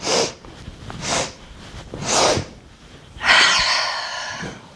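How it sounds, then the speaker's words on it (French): Yoga joy breath: three sharp nasal inhales spaced about a second apart, each a short audible sniff, followed by one long, loud exhale through the mouth, close and alone with no talking. "La respiration de la joie se pratique avec 3 temps d'inspiration, puis une grande expiration par la bouche quand on relâche vers le sol."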